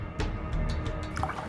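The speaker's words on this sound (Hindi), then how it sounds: "अच्छा, इसमें मैं थोड़ा पानी मिला देता हूँ" Water poured into a drink to dilute it, a short run of splashy drips and trickles heard close and alone.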